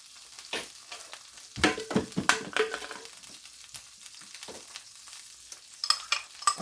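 Three tablespoons of butter sizzle in a hot pan, with quiet crackling and sharp spitting pops in uneven bursts, louder in the middle and again near the end.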